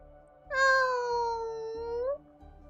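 A cat in the Honkai Star Rail video game lets out one long, clear, rising-and-falling meow, loud and alone over a low, steady background hum.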